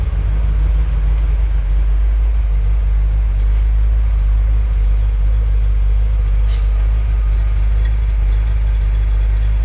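A Cadillac 500 engine with a single exhaust idling steadily after first start, with a deep, constant low rumble, loud and close, with no other sounds over it.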